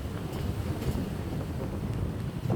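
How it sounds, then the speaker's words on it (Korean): Strong wind during a snowstorm roars and buffets the microphone in a steady, low rumbling rush with gusty swells, no voices over it. "바람 엄청 많이"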